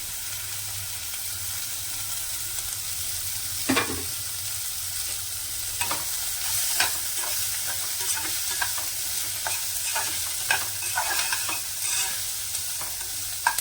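Onions and garlic, put in together for a drumstick palya, fry in a pan with a steady low sizzle, broken every few seconds by sharp scrapes and clinks from stirring, close by and without voices.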